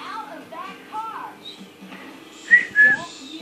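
Two short, bright whistled notes ring out near the end, following quieter chirpy sounds with a voice murmuring in the background.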